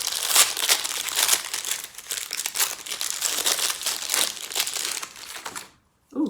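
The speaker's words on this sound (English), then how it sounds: "So sorry for the rustling because this is quite a noisy one." Crinkly plastic product packaging is opened and handled close up, giving a continuous loud rustling and crackling that stops abruptly near the end.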